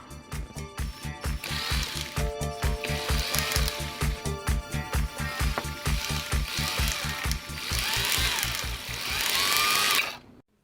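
A repaired Bosch GBH 24 VRE cordless hammer drill runs on a test hookup, giving a close, loud, rapid mechanical rattle and steady motor whir with evenly pulsing impacts that hold for about ten seconds before stopping.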